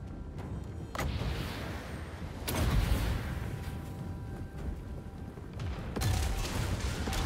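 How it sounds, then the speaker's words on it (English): An ironclad ship fires a bombardment during a Total War: Warhammer 2 battle, sounding as heavy booms at irregular intervals, each followed by a rumbling roar that swells and fades. "we have custom bombardment, fire support from the ironclad ship"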